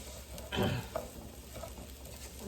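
Pilau rice grains fried and stirred with spices in a pan: a brief scraping, sizzling burst of stirring that rises after a short quiet start, then settles into a low crackle.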